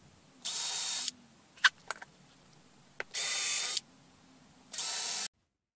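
An electric drill bores pilot screw holes in wood for a flat-pack Dobsonian telescope mount, whirring in three separate bursts of a second or less, with small clicks and knocks between them.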